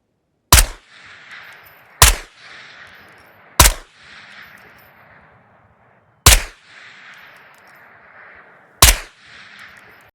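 Five loud unsuppressed gunshots from the Terran Tactical rifle in the Ghost of Tabor video game, single sharp cracks spaced about one to two seconds apart, each followed by a short fading echo tail.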